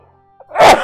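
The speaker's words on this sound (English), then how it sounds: "I'm gonna sneeze." A single sneeze bursts out loud and close in a quiet room, a short breathy intake followed by a sharp noisy blast lasting a fraction of a second.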